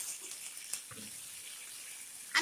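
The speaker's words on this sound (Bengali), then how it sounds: "এই সময় আমি দিচ্ছি আদা, রসুন আর একটা কাঁচা লঙ্কার শুধুমাত্র আমি জলটা দিচ্ছি।" Water poured from a ginger, garlic and green chili paste into tempered spices in a cooking pan for a cauliflower roast, a soft trickling splash under low kitchen hiss, no talking.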